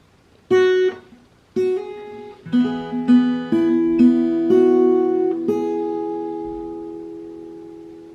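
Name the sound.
fingerstyle guitar playing hymn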